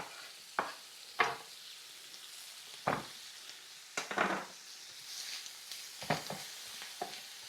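Bacon and chopped cabbage fry in a pan under a steady soft sizzle, broken by several sharp clacks and scrapes of a utensil stirring against the pan.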